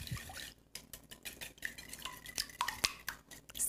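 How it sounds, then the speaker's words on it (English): Muffin batter whisked by hand in a bowl for a jam-filled donut muffin recipe, heard as quiet, close clinking and scraping strokes of a whisk against the bowl in an irregular rhythm, with no talk. "Now, I'll give this a little whisk by hand."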